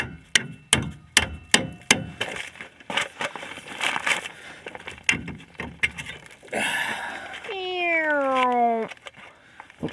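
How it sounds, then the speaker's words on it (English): A metal-faced dead blow hammer taps on rear shock hardware beneath a 2002 Ford Ranger Edge, giving a series of sharp, evenly spaced knocks up close, followed by a cat meowing loudly near the end. "just use the dead blow. My dead blow's got metal right here, so I'll just tap it like this."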